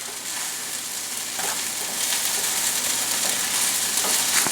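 Basic stuffed pepper ingredients, meat with Italian sausage, sautéing in a pan, giving a steady, close hiss and crackle of frying that builds slightly and continues with no talk.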